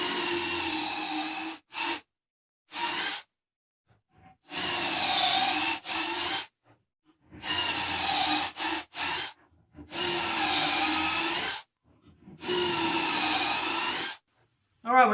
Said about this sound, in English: So we're actually going to drill some pocket holes in these and redo them, put all new screws